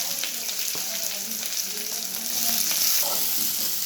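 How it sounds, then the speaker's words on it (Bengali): Chopped onions frying in hot oil with garam masala for keema ghugni, a dense, steady close sizzle with faint scraping of a stirring spoon, swelling slightly louder toward the end, with no voices. "পেঁয়াজগুলোকে এর মধ্যে ছেড়ে দেবো।"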